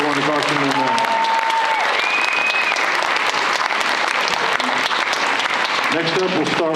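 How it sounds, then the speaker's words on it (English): A high school audience at a national signing day ceremony applauds an athlete's college signing, loud continuous clapping filling the gym, with brief whistles and voices rising over it at the start and end. "One more round of applause for Tanner Kilgore going to Carsen"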